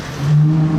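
Engine note of a Ferrari Monza SP2 supercar, carbon wheels with blue centres and blue calipers, rising into a loud steady rev and holding a strong droning tone, close by with no talk.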